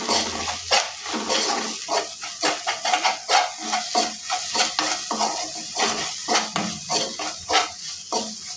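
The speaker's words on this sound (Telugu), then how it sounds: "ఒకసారి కలుపుకోవాలి." A spoon stirs split-milk curry frying in a pan, with repeated rhythmic scraping strokes over a steady sizzle and hiss, close and fairly loud, with no talking.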